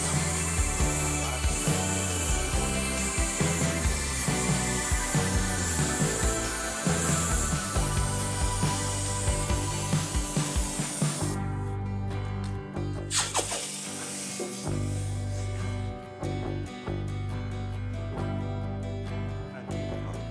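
A torch hisses steadily as it heats a thick copper rod for soldering, a loud continuous roar with faint intermittent clinks that thins out near the end.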